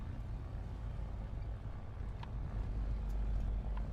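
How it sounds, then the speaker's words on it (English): Damaged, struggling piston aircraft engine in War Thunder air simulation, a German low-tier plane, giving a loud, steady rough drone throughout with no voices. "Oh Jesus Christ, the engine is really in a bad shape."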